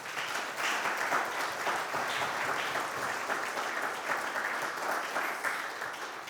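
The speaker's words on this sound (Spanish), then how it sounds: "Denle un aplauso de alabanza al Señor" A church congregation breaks into sustained applause, dense and even clapping that holds steady for several seconds, heard from within the room.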